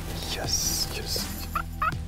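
Wild turkeys gobble and call in a spring hunting setting in Quebec, a few rattling bursts spread across the moment, moderately distant against quiet ambient noise.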